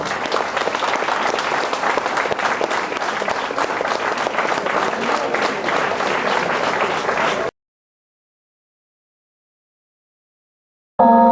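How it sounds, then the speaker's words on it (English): Audience applause for a dance performance at a college fest, a dense, steady wash of clapping lasting several seconds before cutting off abruptly, followed by a brief burst of another sound at the end. "I request all of you to please give this performance a big round of applause"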